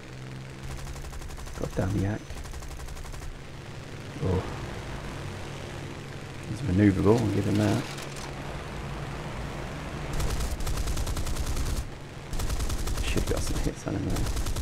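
Aircraft cannons fire in short, sharp bursts during a War Thunder dogfight against a Yak fighter, over a steady engine drone. Someone talks between and over the volleys.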